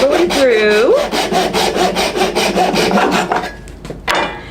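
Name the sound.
hand sawing through wood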